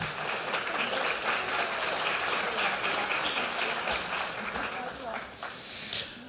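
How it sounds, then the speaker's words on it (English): A senior pageant crowd gives a continuous round of applause that stays fairly even for about six seconds, with voices and cheers mixed into the clapping. "All right, big round of applause for Queen Sandy Honnold."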